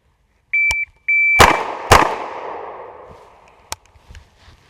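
An IWI UZI Pro 9mm sub gun fires two sharp shots about half a second apart, preceded by two electronic shot-timer beeps, with a ringing outdoor echo and a faint later click.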